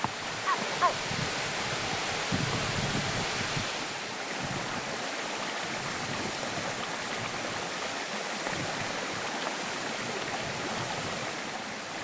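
Water rushing over a waterfall and along a rocky stream in the Bolivian mountains, a steady broadband roar that stays even and fairly close for the whole stretch, with no voices.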